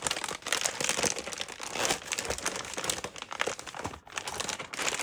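Filament spool in a thin plastic vacuum bag being handled, giving steady close crinkling and rustling of plastic film with brief pauses.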